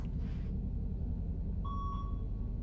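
Over a low rumbling background in the video game Get Even, a beeping object gives a clear electronic beep twice in quick succession, tonal and fairly prominent, after a brief soft noise burst.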